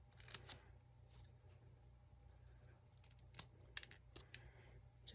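Scissors cutting designer series paper down the middle, quiet crisp snips in a few short clusters over a low background hum.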